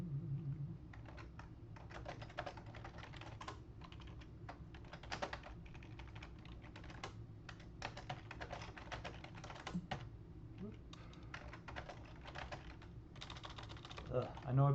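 Steady, fast keyboard typing with bursts of clicking keystrokes and brief pauses, close and moderately quiet, continuing through the whole stretch.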